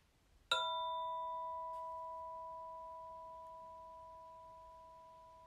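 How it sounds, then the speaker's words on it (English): A single meditation bell is struck once, then its clear ringing tone hangs alone in a quiet room and slowly fades away over several seconds. "listening to the entire sound of the bell"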